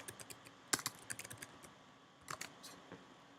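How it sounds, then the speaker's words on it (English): Fingers typing a file name on a computer keyboard, with quick bursts of light clicky keystrokes, a short pause, then a few more taps, close and quiet in a still room. "You just type in a different name for this file."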